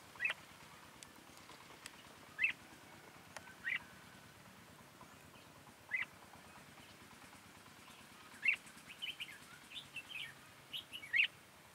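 Red-whiskered bulbuls chirp near a bird trap in the countryside, giving short, bright calls at irregular intervals, some faint and some more distinct, over a quiet outdoor background with no talking.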